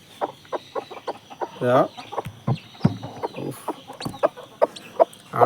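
A grey hen of a local breed clucks repeatedly in short, close bursts, with a few louder calls standing out over soft background noise.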